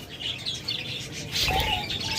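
A pair of albino red-eyed pet birds chirp in quick, high tweets that carry steadily throughout, with a brighter flurry of calls near the end and no talking.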